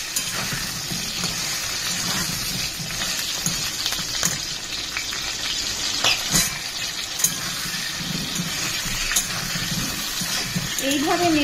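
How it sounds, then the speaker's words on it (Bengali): Pieces of pointed gourd (potol) frying in hot oil with chillies while being stirred, a continuous sizzle with occasional scraping clicks from the spatula and a voice talking over it. "এইভাবে নেড়ে চেড়ে প্রত্যেকটা পটলকে ভেজে নেবেন।"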